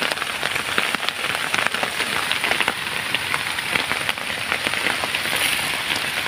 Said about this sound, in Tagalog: Inabutan tayo ng ulan.